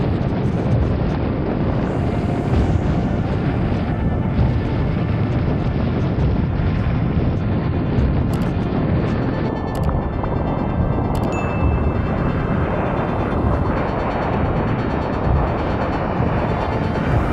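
Strong wind while kitesurfing, a loud, constant roar of gusts buffeting the microphone with no letup.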